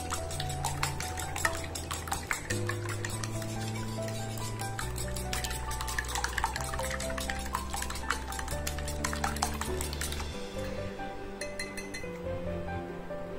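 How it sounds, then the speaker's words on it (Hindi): Two eggs and milk are whisked together in a bowl for a chicken coating, with quick repeated clinks and scraping of a utensil against the bowl. It sounds close and moderately quiet, with soft musical tones underneath. "एक और बाउल में 2 अंडे लेने हैं और 3 tablespoons हमने दूध डालकर इसको मिक्स करके रख लेना है"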